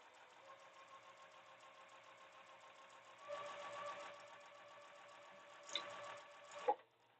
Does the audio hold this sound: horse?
no